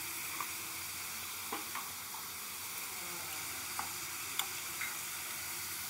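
Shrimp and cucumber tok curry frying in a pan with turmeric and salt, giving a steady low sizzle broken by a few faint ticks and scrapes as it is stirred, with no voices.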